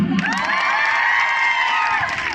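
A comedy-night concert audience cheers and whoops loudly in a hall, a dense crowd roar with shrill shouts lasting the whole moment, with little distinct clapping.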